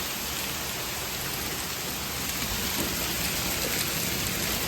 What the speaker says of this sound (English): Look, there's actually hail.